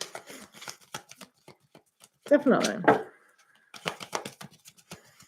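Tarot cards being shuffled during a live reading: a dense burst of riffling in the middle, set among scattered soft clicks and taps, with a person speaking briefly nearby.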